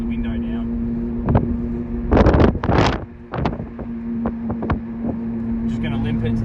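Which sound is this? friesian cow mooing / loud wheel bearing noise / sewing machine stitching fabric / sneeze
loud wheel bearing noise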